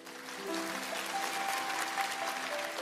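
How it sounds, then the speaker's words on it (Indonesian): A church congregation breaks into dense, steady applause, a continuous wash of many hands clapping together at full volume for a few seconds, with a faint sustained tone underneath. "Berikan tepuk tangan untuk Tuhan Yesus."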